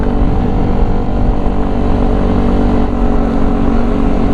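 A Yamaha NMAX scooter riding on a road in Bandung, a steady loud engine drone with heavy wind rumble throughout, close and continuous, with no talk.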